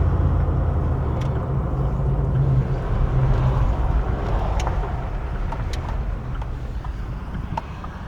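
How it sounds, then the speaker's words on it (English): Steady road traffic rolls past on an island road at Matlacha, a continuous broad engine and tire roar with occasional faint high clicks, no talking. "So, you see the traffic already. This is just the normal traffic in the beginning of the season."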